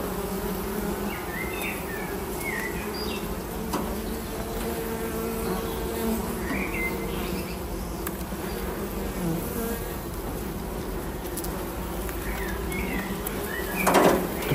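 Dense, steady buzzing of many honeybees close by around hive frames, a continuous drone with occasional louder passes near the end.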